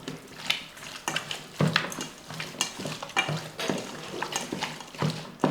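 Chicken tossed and stirred with salt and masala, a run of repeated scraping and mixing strokes, fairly close and steady, with no voice over it.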